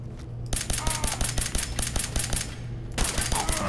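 Rapid pistol fire in the video game Fallout 4 rattles off in quick, evenly spaced bursts, a dense run of sharp shots, a short pause, then another fast string.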